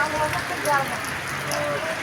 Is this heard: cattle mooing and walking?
no